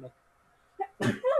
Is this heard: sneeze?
yes